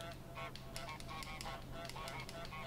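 Goose honks in Untitled Goose Game, several short nasal honks scattered over a few seconds against steady in-game background sound.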